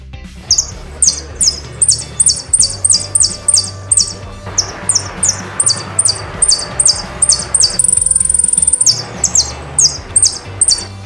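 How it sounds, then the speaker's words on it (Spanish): A goldfinch sings among branches, a rapid run of high, clear chirps and twittering phrases repeated steadily and loudly up close, with a low hum running beneath. "Entre las ramas hay un pajarito cantando. Es un jilguero."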